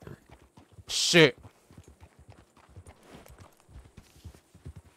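Horse hooves clip-clop at a walking pace in a role-play ranch video game, soft and fairly steady beneath people talking.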